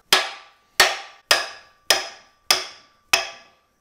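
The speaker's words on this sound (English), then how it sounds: "See if this yoke wants to come off easy." A pinion yoke being worked off a truck axle with six sharp metallic blows, evenly spaced about half a second apart, each ringing out briefly, loud and close with no voices.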